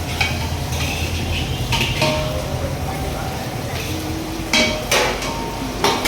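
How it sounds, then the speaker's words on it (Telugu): A spoon stirs chicken biryani in a pot, with scraping and metallic clinks against the pan over a steady sizzling background, close and fairly loud, with occasional bright knocks. "మా డాడీ అయితే బిర్యానీ కలుపుతూ ఉన్నాడు."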